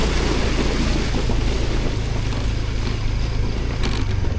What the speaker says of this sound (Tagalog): Ito ang ilog, river crossing tayo guys.